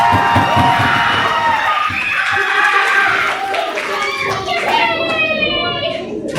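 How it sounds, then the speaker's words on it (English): A crowd cheers and claps at the finish of a running race, with excited children's voices rising over a steady roar of noise throughout. "The crowd goes wild."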